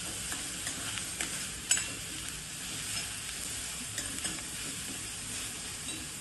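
Onions with a pinch of salt fry in a pan, turning golden brown, giving a soft, continuous sizzle broken by light stirring clicks.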